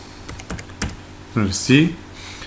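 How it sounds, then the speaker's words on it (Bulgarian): A word is typed on a computer keyboard as a quick run of crisp, close key clicks, followed by a voice speaking. "ето в това поле се въвежда думата"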